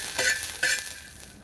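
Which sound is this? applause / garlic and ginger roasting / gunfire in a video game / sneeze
garlic and ginger roasting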